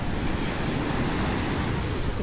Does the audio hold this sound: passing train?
no